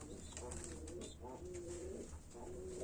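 Tumbler pigeons coo softly nearby in low, rolling, repeated calls, with faint chirps from young chicks and quiet background noise.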